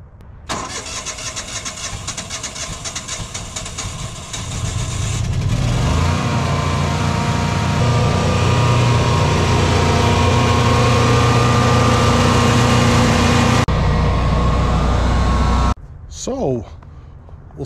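A Generac 24 kW standby generator cranks, catches and settles into a loud, steady running drone, cutting off near the end, with a voice heard briefly before it starts.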